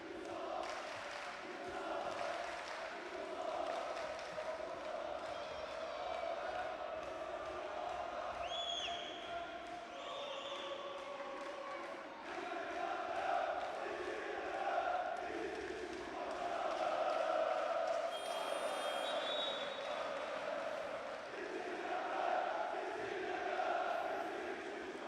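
Fenerbahce home crowd at a women's basketball EuroLeague quarter-final, a continuous roar of voices and chanting filling an arena, rising louder in the second half, with shoe squeaks and whistle-like tones faintly cutting through.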